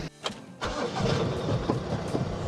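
A Volkswagen Caddy V car engine cranks briefly, catches and settles into a steady idle, heard close up with no talking.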